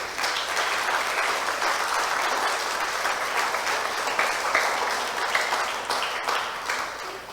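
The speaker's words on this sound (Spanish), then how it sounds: "Denle un aplauso al Señor, por favor." A church congregation claps together in a sustained, dense burst of applause for the Lord, loud and steady throughout with no talk over it.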